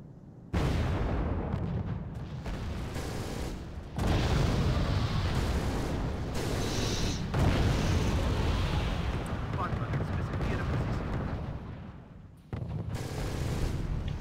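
Repeated heavy explosions from bombs dropping in the real-time strategy war game Wargame Red Dragon, rumbling in long sustained bursts with brief gaps, loud and continuous, while players talk over the battle.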